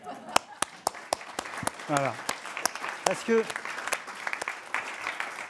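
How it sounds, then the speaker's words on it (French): Scattered clapping from an audience at a foundation panel event, with sharp, separate claps mixed with someone speaking over them. "ce que je vous propose, c'est qu'on applaudisse tout de suite"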